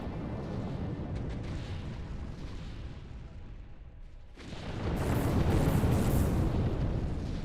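Nuclear blast in the Sins of a Solar Empire mod Sins of the Prophets, a deep roaring rumble that swells suddenly halfway through and stays loud and broad over an already heavy battle din.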